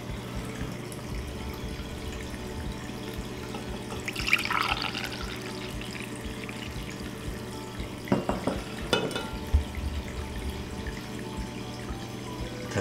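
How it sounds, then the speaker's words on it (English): Ashwagandha hydrosol from a hydro-distillation setup poured into a glass cup, soft trickling and splashing liquid with a few brief clinks and drips over a faint steady hum. "I pour it into the glass cup."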